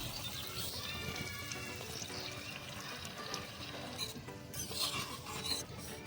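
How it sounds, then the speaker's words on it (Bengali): A little water is added to a miniature mutton biryani in a tiny pot, heard as a soft, faint trickle and splash with light clinks and no talking. "তার জন্য এর মধ্যে সামান্য একটু জল দিয়ে দিচ্ছি"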